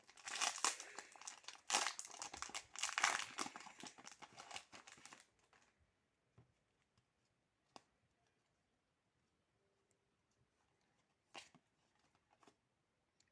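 A Pokémon Elite Trainer Box gets unwrapped and opened up close: several seconds of loud plastic crinkling and tearing, then quiet with a few isolated clicks and rustles.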